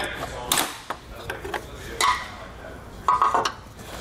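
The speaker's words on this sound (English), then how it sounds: "we're going to grab our nylon pry tool and pull this plug out of our headlight" Nylon pry tool prying a plug out of the headlight on a 2020 Honda, a series of sharp plastic clicks and creaks in irregular bursts, close by.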